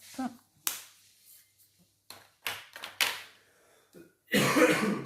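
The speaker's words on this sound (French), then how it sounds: "c'est toujours mon fils qui tousse" Several short coughs and throat-clearing bursts from a child scattered among quiet gaps, followed by a louder rustling, scraping noise at the end.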